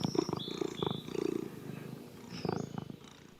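A cat's purr from a children's yoga story, heard as several rumbling, pulsing bursts over a few seconds at moderate loudness, with a few higher tonal squeaks mixed in and no speech.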